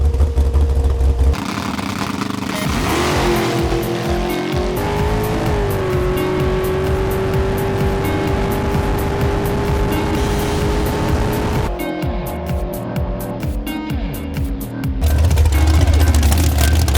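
A 1995 Ford Mustang Cobra making a full-throttle drag racing pass, its engine roaring loud and sustained as revs climb through the gears, with a brief shift break before the run winds down.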